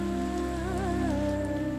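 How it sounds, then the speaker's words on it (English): Monsoon rain falls steadily in Cambodia, a continuous patter of rain on surfaces beneath sustained tonal lines from what may be music or insects. "And then the monsoon hits."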